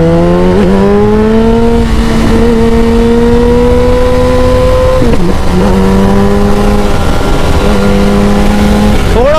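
A Suzuki Hayabusa and a Yamaha R1 motorcycle race in a drag race, their engines droning loud and close with steady high revs, pitch climbing then dropping abruptly at each gear change.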